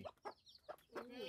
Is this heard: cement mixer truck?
no